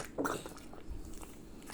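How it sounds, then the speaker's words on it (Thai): Soft, close chewing of a chewy, bacon-scented snack: a single bite followed by faint, wet mastication sounds, with no talking. "หนึบหนับมากดูดิ ดูเคี้ยวดิ"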